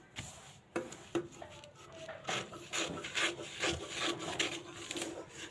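Scissors cut through Katori blouse fabric, giving close, quiet rasping snips and rubbing strokes in a loose, irregular rhythm for a few seconds, with no voices.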